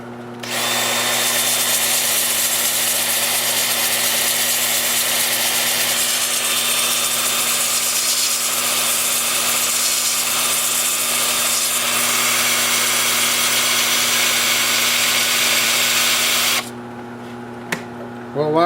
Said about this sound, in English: So I'll be sanding in reverse at 250 RPM.